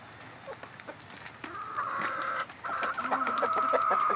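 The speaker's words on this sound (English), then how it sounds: "Pretty chickens." Several hens cluck close by while being fed, a steady run of soft clucks and calls that builds into louder, overlapping chatter.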